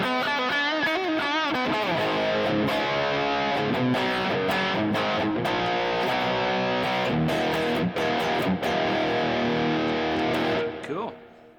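Loud Tube Screamer-overdriven electric guitar plays sustained chords and bends with a washy reverb tail that rings out as the playing stops.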